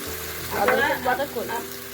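Spices sautéing in hot oil for a pangas fish curry with beans and potato, a steady close sizzle with stirring that swells in the middle and carries some brief tonal scraping.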